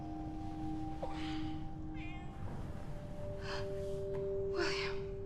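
Cat meows inside the Wolfenstein II: The New Colossus game, several short moderately loud cries spread across a few seconds over steady background hum and sustained tones.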